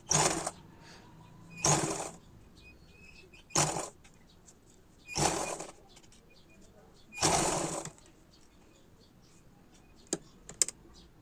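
A sewing machine stitches saree pleats in short bursts, five runs of rapid whirring separated by quiet pauses, followed by a couple of small clicks at the end.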